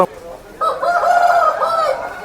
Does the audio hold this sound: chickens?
yes